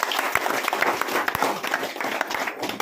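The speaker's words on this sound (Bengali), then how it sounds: "তাই স্যারকে ওঠার আগে জোরে একবার করতালি সকলে।" Audience clapping at a meeting and opening event in Farakka, a fairly loud burst of close, uneven applause with scattered sharp individual claps standing out over the crowd.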